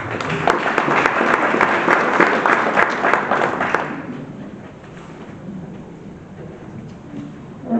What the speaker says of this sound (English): Another applause for the trophy.